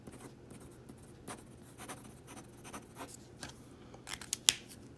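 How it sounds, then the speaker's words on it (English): A Pilot Hi-Tecpoint V5 0.5mm pen writes on paper with scratchy, crisp strokes in short bursts. Close and fairly quiet, with a few sharper scrapes near the end and no talking. "listen to it and hear how scratchy it sounds"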